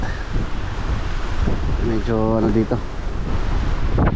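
Strong wind buffets the microphone at a seaside fishing spot with a constant low roar of gusts, and near the middle someone speaks briefly over it.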